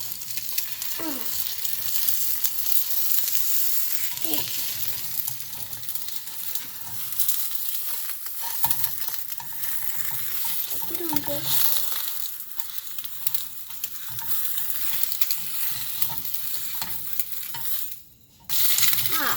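Steady, loud sizzling of an egg frying in butter, a continuous crackling hiss with small pops throughout.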